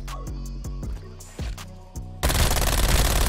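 Striker shotgun blasts in Black Ops multiplayer, four or five loud, sharp shots spaced roughly half a second apart with ringing tails, then a sudden burst of dense noisy gunfire.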